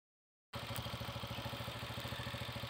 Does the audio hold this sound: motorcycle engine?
yes